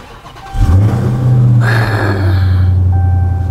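A Dodge Charger SRT Hellcat Widebody Daytona Edition with a modified intake, rated at 717 horsepower, starts its engine. It barks to life and settles into a loud, deep, rumbling idle, with a brief rev partway through, close and alone.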